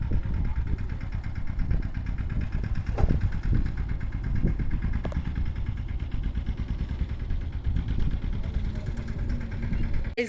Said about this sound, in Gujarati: અહીંયા ટ્રેક્ટર હાલે છે